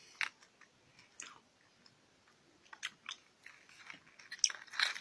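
Close, quiet chewing and biting on a gummy Japanese snack with a gum-like texture, irregular soft crunches and smacks that build toward the end, with no voices.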